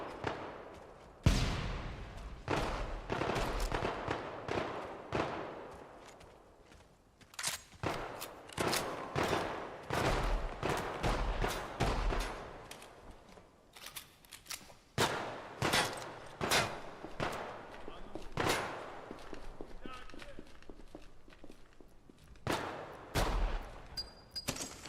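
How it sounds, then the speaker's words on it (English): A machine gun fires from the hip in a video game, sharp rapid bursts and single cracks repeating across the stretch with short pauses between volleys. "Just hip firing a machine gun,"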